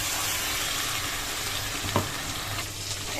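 Ginger and garlic paste sizzling in hot oil with fried onions, a steady close frying hiss throughout with one brief clink of a utensil near the middle, no voices.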